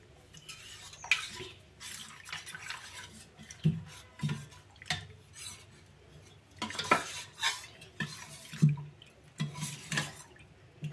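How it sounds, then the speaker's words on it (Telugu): Thick carrot halwa mixture stirred in a pan, with a spoon scraping and clinking against the metal in irregular strokes, soft wet squelches between them, close and fairly quiet. "ఉండలు లేకుండా శుభ్రం కలుపుకోండి"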